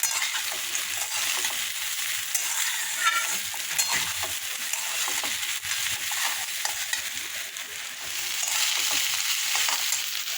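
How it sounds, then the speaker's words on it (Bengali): Leftover rice stir-fried with potatoes, onion, peanuts, green and dried chilies and nigella seeds, a constant close sizzle broken by clinks and scrapes of a spatula on the pan, with no voices. "বাসি ভাত আলু দিয়ে পেঁয়াজ দিয়ে বাদাম দিয়ে কাঁচা লঙ্কা শুকনো লঙ্কা কালো জিরে দিয়ে ভাজা হয়ে গেল"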